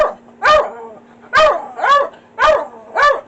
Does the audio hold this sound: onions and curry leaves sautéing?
no